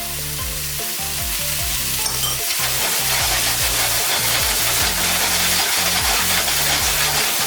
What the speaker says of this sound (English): all I'm doing is just searing the outside